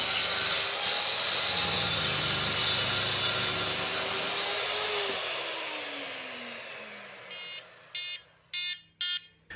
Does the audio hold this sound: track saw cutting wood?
yes